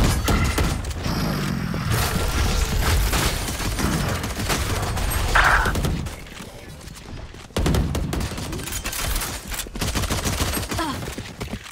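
Dense gunfire from the video game Valorant keeps up a loud, near-continuous barrage of rapid shots, drops away briefly near the middle, then returns.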